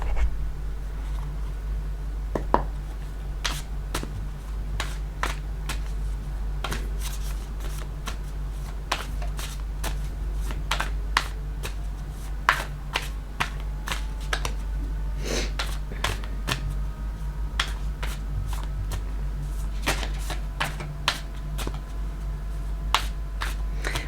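Tarot-style pick-a-card deck being shuffled and drawn, with crisp, close card snaps and riffles scattered irregularly over a steady low background hum, no talking.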